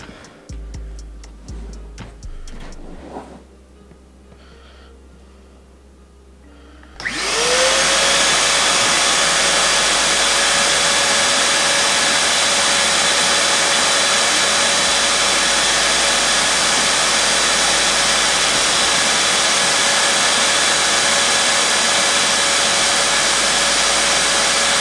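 A few faint clicks and handling knocks give way to a vacuum cleaner starting up inside a DIY clean air enclosure for hard drive repair, then a loud, steady whining roar that holds to the end.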